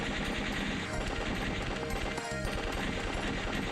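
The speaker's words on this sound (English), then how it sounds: "It's just the machine gun sounds and the explosions and stuff" Rapid, dense machine gun fire and explosions from the Legend of the Steel Empire video game form a continuous rattling barrage at even volume, with a brief dip in the middle.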